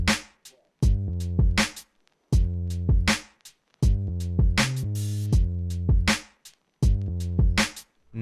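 Deep processed bass line with punchy drums in an old-school sampled FL Studio beat: loud, rhythmic kick and snare hits over sustained low bass notes, repeating in a steady looped groove.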